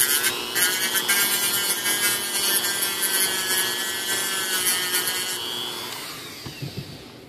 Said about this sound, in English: We can also slip this off and just sand it down a little bit too on the inside part here.